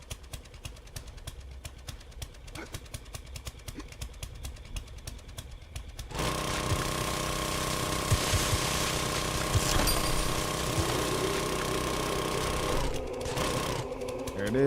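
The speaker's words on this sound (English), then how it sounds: "Treasure hunter with the auger is so fast" An auger digs in the 7 Days to Die video game, starting midway as a loud, steady mechanical grinding drone with a rapid buzzing rattle that runs continuously, following quieter game ambience with faint clicks.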